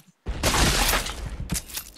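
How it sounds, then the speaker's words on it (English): A sudden loud burst of crashing explosion effects from the Happy Wheels video game erupts after a brief quiet, sustained and dense, then a second blast follows near the end. "Everybody's exploding!"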